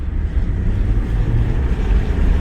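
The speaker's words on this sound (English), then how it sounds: "Sport mode, here we go. Oh wow, You can feel the throttle. It's got better throttle response" A 2016 Lexus IS200 with a 2-liter turbo engine accelerating in sport mode, heard from inside as a steady, loud low engine drone with rumbling wind and road noise and no pauses.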